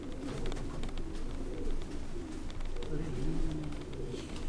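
Domestic pigeons cooing steadily at a close loft, soft low throaty calls overlapping continuously throughout with faint rustling.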